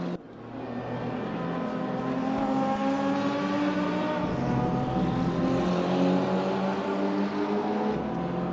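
KTM race car in a sim racing game, its engine a continuous loud whine that climbs steadily in pitch through the gears, close and sustained with no talk.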